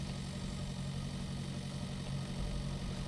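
A medium tractor engine in the farming game Pure Farming 2018 runs at a steady low rumble, continuous and fairly close, with no speech over it.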